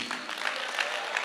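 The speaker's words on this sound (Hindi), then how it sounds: "जोरदार तालियां होनी चाहिए" Audience clapping at a motivational talk, a brief, moderately loud burst of many hands with scattered individual claps standing out, continuous through the short stretch without speech on top.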